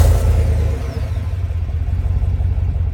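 A 2016 GMC Yukon Denali with a 6.2 liter V8 idles steadily after a remote start, a loud, close, low exhaust rumble with a faint whir on top, heard on its own.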